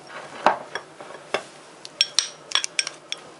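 Dried thyme and poultry seasoning are being stirred together in a bowl for roast chicken, giving scattered light clinks and scrapes of a utensil, sharp and close, spaced irregularly over a few seconds.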